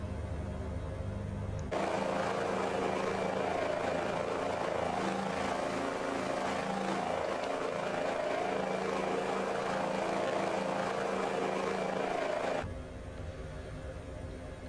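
A Hype H145 helicopter in Microsoft Flight Simulator 2024 produces a loud, steady rotor and turbine drone that swells in for about eleven seconds, then drops back to a quieter cabin hum.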